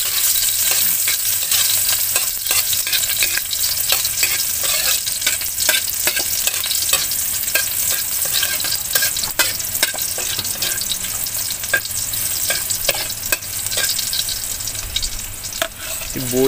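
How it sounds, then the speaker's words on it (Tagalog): Garlic sautés in hot oil in a pan, a dense, steady sizzle close up with frequent clicking spatula strokes and scrapes throughout, no speech. "Ilagay na natin ang bawang. Yan, gisahin na natin."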